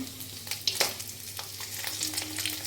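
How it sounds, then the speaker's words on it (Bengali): Fish frying crisp in a hot pan, giving a continuous close sizzle and crackle with a few light utensil clicks over it. "এখন কড়া করে ভাজছি মাছটাকে"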